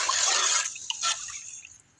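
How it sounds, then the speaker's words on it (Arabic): Rice mixed with spices, salt and seasoning boils in a pot, giving a soft, bubbling, watery hiss that fades over a couple of seconds. "وراح أخليهم يفورون لحد ما ينشف المي"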